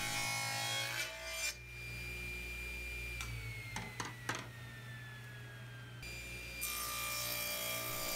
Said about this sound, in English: I start by cutting my stock down to rough dimension.